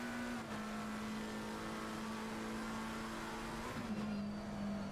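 McLaren and Ferrari race cars in a racing video game braking into the 130R corner, a steady droning engine note with a brief pitch dip near the end, moderately loud and without talk.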